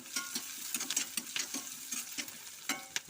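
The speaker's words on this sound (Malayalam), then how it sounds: "ഒരു മീഡിയം സൈസ് സവോള അരിഞ്ഞത് ഇട്ട് കൊടുക്കുക ഈ സവോളയിൽ ഞാൻ കുറച്ച് മാറ്റി വെച്ചിട്ടുണ്ട് ഒന്ന് മൂത്ത് വരട്ടെ" Chopped onion fries with curry leaves in a pan, a steady close sizzle broken by rhythmic scraping strokes as it is stirred.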